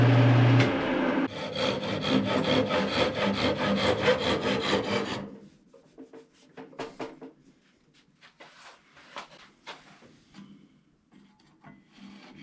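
Hand saw cutting the ends of a wooden Celtic knot rolling pin, a rapid rhythmic rasping of steady strokes for several seconds, then sparse scraping and handling sounds.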